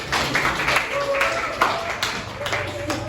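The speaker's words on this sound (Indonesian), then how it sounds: "Tepuk tangan dulu untuk Amel" Students in a classroom clapping for a classmate, a scattered round of hand claps in uneven bursts, close by, mixed with people talking.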